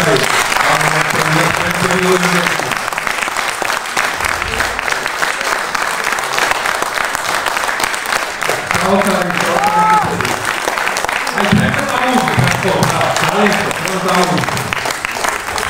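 An audience applauds at a Georgian creative evening honouring Tariel Kharkhelauri, giving a long, dense, steady ovation that fills the hall while a few voices rise faintly through the clapping.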